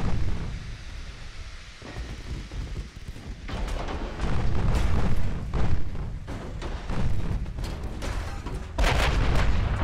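Naval artillery in Ultimate Admiral: Dreadnoughts, heavy guns booming and shells striking, a series of deep, loud explosions and rumbling blasts at irregular intervals over continuous low battle noise.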